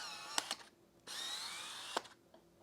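Autofocus motor of a Tamron 70-200 f/2.8 LD Di SP lens, whirring in loud, drill-like bursts with clicks between them, close up and alone.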